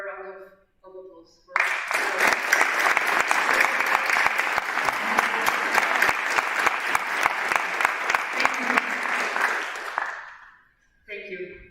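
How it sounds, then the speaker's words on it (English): A council general assembly breaks into sustained applause from a large room, steady crowd clapping lasting several seconds before tapering off, with brief spoken voices just before and after. "I would ask for a round of applause."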